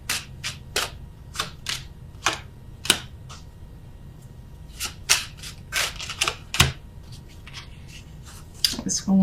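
Tarot cards are laid down on a table as a series of crisp, close snaps and slaps at an irregular pace, with quiet pauses between them.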